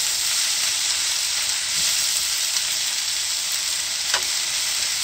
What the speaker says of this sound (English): it's important you all the time stir and mix it for get an even cook